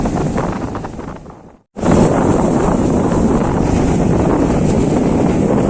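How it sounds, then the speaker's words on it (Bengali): Strong wind buffets the microphone on Mandarmani beach, with a steady roar of surf rolling in beneath it. The sound cuts out for a brief moment, then returns loud and continuous. "ঢেউটা আসছে আস্তে আস্তে।"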